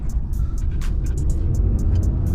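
A 2021 Ram 2500 pickup with a 6.7L Cummins diesel engine under light throttle gives a loud, steady low rumble and engine drone, close and continuous, with no talk.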